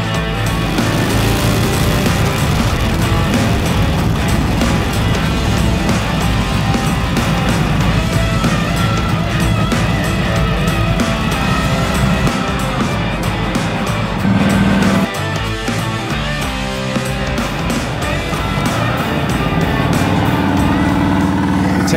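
A 1938 Harley-Davidson Knucklehead Texas Stroker bobber with a 1000 cc engine running, a loud, dense, continuous roar with a deep throbbing exhaust that holds steady throughout and shifts slightly in tone midway.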